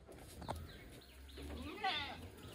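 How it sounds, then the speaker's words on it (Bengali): A goat bleats a couple of times nearby, short wavering calls against a quiet outdoor background. "ছাগলটা আবার ডাকছিল খাওয়ার জন্য"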